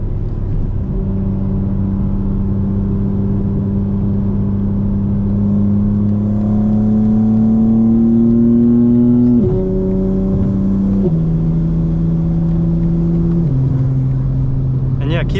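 A 2025 BMW M4 Competition engine drones loudly and climbs steadily in pitch as it accelerates. The revs then drop in distinct steps as the gears shift up, with continuous road rumble underneath.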